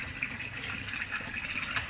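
Steady rush of water poured and splashing during bathing, continuous and fairly close, with no voices.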